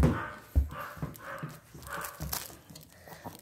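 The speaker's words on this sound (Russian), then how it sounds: "Вот Куки гавкает" A dog barks repeatedly indoors, a series of short, fairly faint yaps coming about every half second, with some soft shuffling underneath.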